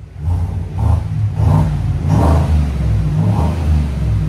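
A 2024 Chevy Tahoe's 5.3L V8 revs in a series of deep throaty bursts through a loud Black Widow exhaust, rising and falling several times close by, up to a rev limiter.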